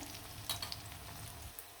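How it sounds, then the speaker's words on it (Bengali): Chopped onions and green chilies frying in a pan as they are stirred, giving a soft continuous sizzle with a few faint scrapes, quiet and close with no talking. "কুচি কুচি করা পেঁয়াজ আর কাঁচামরিচ দিয়ে ভালো করে নাড়াচাড়া দিয়ে দিব"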